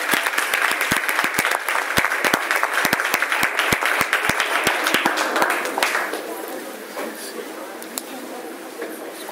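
A school board meeting audience claps and cheers for several seconds, a mix of sharp individual claps and a louder crowd wash that stops abruptly around six seconds, leaving quiet room tone with light movement.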